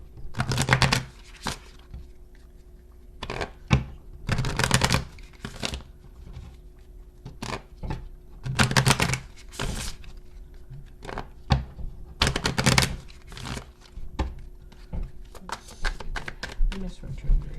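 Tarot cards are shuffled and drawn in bursts of crisp riffling and soft slaps, with quiet pauses between them and someone talking at intervals.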